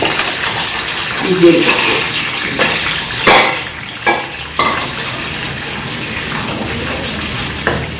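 Half-fried peanuts sizzle and rattle in a hot pan while pulihora is cooked, a steady close frying hiss broken by scraping stirs and small clinks.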